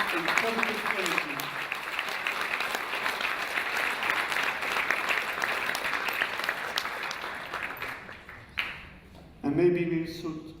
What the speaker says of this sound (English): Clap hands for yourself to turn this moment in positive energy.